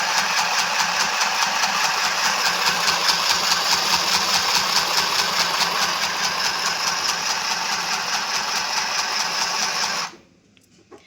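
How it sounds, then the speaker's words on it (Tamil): A mini electric sewing machine motor, started by its pedal, whirs steadily with a rapid mechanical chatter for about ten seconds, then stops abruptly, leaving near silence. "லைட்டாக பெடல் பண்ணிங்கன்னா போதும் மிஷின் ஸ்டார்ட் ஆக ஆரம்பிச்சிடும்"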